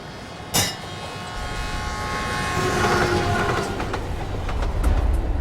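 A train rumbles past a railway crossing, opening with a sharp clank before a swelling roll of wheels and rattling cars, with repeated metallic clicks building loud and close toward the end.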